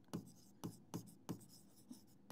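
Short, rhythmic strokes of writing on a board during a biology class. Roughly five quiet scratches land at an even pace, with no talking.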